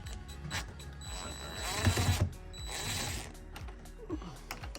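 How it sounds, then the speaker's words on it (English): A DeWalt 20-volt max brushless drill driving a Phillips screw while a keyless RV door lock is installed: a faint motor whir runs for about two seconds, with scattered clicks and handling knocks around it. "I'm using a DeWalt 20 volt max brushless."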